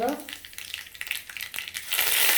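Asafoetida drops into hot oil already holding mustard seeds and cumin, setting off a short burst of crackling and spitting that rises into a louder, steady sizzle.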